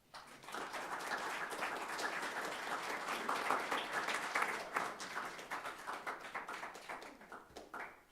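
A church congregation at a Sunday service applauds to welcome a speaker, steady clapping from many hands swelling for several seconds, then thinning into scattered claps as it fades.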